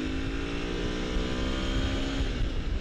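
A Husqvarna FE350 or KTM EXC350F dirt bike accelerates hard through its gears, its engine droning loud and steady close by, with no talking.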